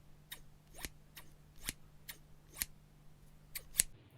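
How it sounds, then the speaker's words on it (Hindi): A pair of scissors snips the air in about seven crisp, faint clicks at an uneven, unhurried rhythm, heard alone against a quiet background. "कैंची हिला रहा है कोई"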